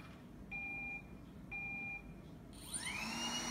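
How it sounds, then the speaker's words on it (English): A Roomba 980 robot vacuum starts up with two steady electronic beep tones, each about half a second long, followed by a rising whir as the motor spins up, heard at moderate level indoors. "Okay, Roomba 980 has started cleaning."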